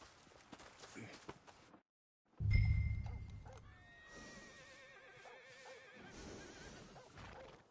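In Red Dead Redemption 2, a horse gives a loud, quavering whinny after a brief silence, with snorts and shuffling hooves around it in a game-like soundscape.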